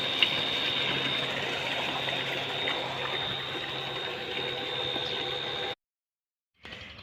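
Tube well motor pumping water into a wheat field: a steady loud hum and whine with rushing, gurgling water flow, cutting off abruptly to silence near the end before faint sound returns, no voices.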